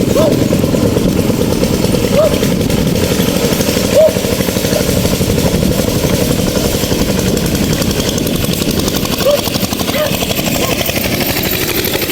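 A loud, steady tractor engine chugs nonstop at close range, a rough low rumble with occasional faint voices.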